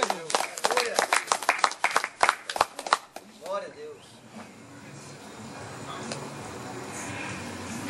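A church congregation at an outdoor service claps for Jesus, a loud burst of separate hand claps for a few seconds that fades into a steady crowd murmur.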